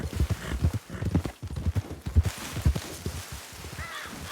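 Horses walking in the western video game RedM, hooves clip-clopping in a steady, uneven rhythm close by, with a crow cawing faintly in the background.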